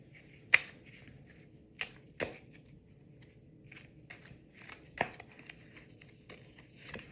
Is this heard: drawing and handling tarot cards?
yes